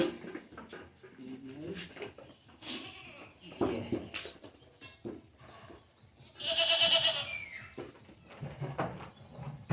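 Desi and Sirohi cross-breed goats and their kids bleat among farm noise, with several short calls and one loud, close bleat in the middle, mixed with someone talking intermittently.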